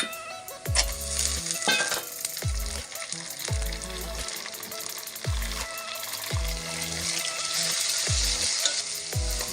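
Upma gets stirred in a pan under a continuous bright sizzle, with about a dozen regular low thumps of the spoon at a steady, near rhythm.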